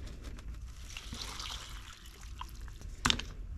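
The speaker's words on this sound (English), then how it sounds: "And then we're going to add some water." Water poured into a small rock tumbler holding silicified honeycomb rock, a soft trickling and sloshing that runs faintly before a brief sharp clink near the end.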